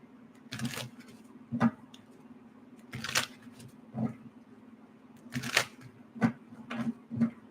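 Tarot cards being shuffled during a reading, in several separate bursts of soft riffling and slapping, close and quiet against a low steady hum.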